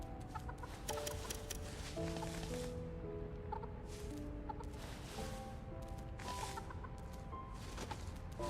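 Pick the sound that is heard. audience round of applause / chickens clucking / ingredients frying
chickens clucking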